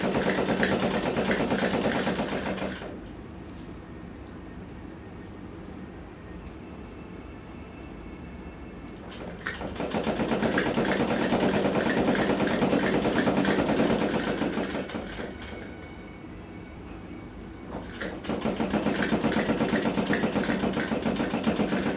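A sewing machine runs a long seam on a suit for a 15–16-year-old girl, whirring steadily in two long bursts with a pause between them and starting again near the end, loud and close with no talk.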